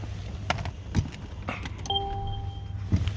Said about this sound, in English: we're going to turn the car off